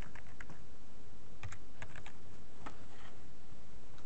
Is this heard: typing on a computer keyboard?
yes